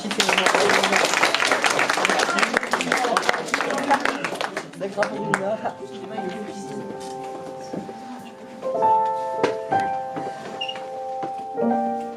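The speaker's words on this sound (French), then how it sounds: "On les applaudit." A middle-school class claps loudly for a few seconds, then the clapping thins and fades, giving way to soft sustained musical tones and light movement.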